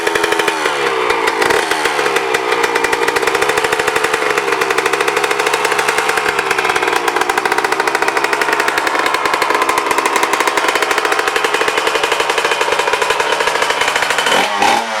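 A two-stroke premix engine runs steadily and loud, a dense buzzing drone that holds unbroken at close range for the whole stretch.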